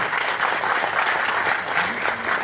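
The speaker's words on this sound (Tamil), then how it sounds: "கருணா சாருக்கு நல்ல மிகப்பெரிய கரகோஷம் கொடுங்க" An audience at a Tamil film's audio and trailer launch breaks into loud, dense applause that fills the hall steadily and continuously, without speech.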